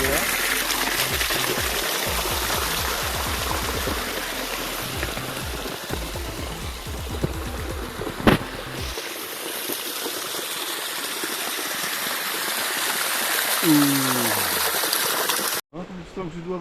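Water rushes and gushes steadily at a water intake among stacked stones outdoors, a broad continuous flow close by, with a brief knock midway and a voice speaking near the end.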